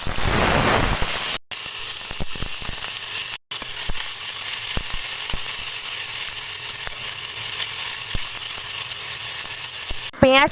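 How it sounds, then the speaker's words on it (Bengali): Onion paste for a restaurant-style crab curry frying in a pan with cinnamon, clove and cardamom, a steady close sizzle that runs unbroken apart from two brief dropouts, with faint scraping stirs. "পেঁয়াজটা ভালো করে ভাজা হয়ে গেছে, হালকা বাদামি কালার চলে এসছে।"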